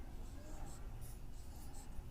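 Pen on paper while a maths teacher writes out a circle-area formula, a faint, steady scratching of strokes close up with light talk underneath.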